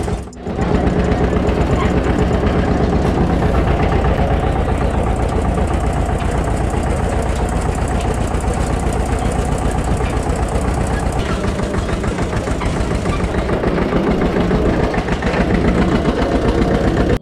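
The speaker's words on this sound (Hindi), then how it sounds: "नरेंद्र कुमार यहाँ पे भैया ट्रैक्टर राइड कराते हैं बच्चों को।" A tractor engine idles steadily at a farm that offers tractor rides, a continuous low mechanical rumble running close and loud throughout, with voices faintly mixed in.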